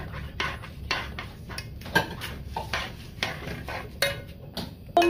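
Spoon stirring a sesame seed mixture in a hot pot, added little by little for homemade sesame conserve, giving repeated close scrapes and clinks of utensil against the pot in an uneven rhythm.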